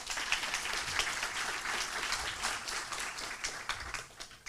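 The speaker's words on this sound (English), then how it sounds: "Also, please a round of applause." Applause rolls through an audience at an inequality conference, a dense, steady wash of many hands clapping at moderate distance that tapers toward the end.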